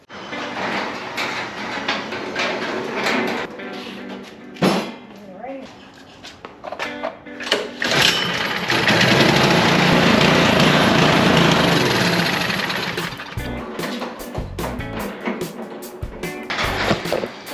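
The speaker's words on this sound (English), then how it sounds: "we need to start this and let it just run out of gas" A Troy-Bilt Storm 2600 snowblower engine runs close by while people talk over it, its rumble swelling to a loud steady roar midway and then dropping back under clanks and handling noises.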